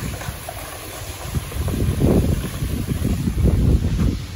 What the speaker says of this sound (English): I don't know what all this wind is about